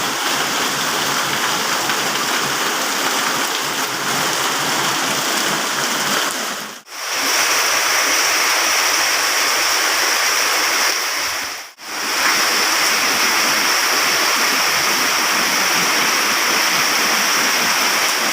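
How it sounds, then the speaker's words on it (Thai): Heavy rainstorm pouring down around a dried-out fishing pond, a dense, steady roar of rain that stays loud throughout, broken only by two brief near-silent dropouts. "มาแรงทั้งฟ้าทั้งฝนเลยนะครับ"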